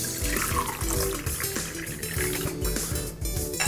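Water pours continuously into a container of rice, a full, gurgling stream lasting several seconds with no talking.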